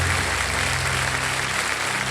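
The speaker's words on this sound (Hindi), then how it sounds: "तालियां बज जाएं जोरदार।" A studio audience on the Kaun Banega Crorepati quiz show breaks into loud applause as the game begins, a thick, continuous wash of clapping that stays steady from start to finish with no voices.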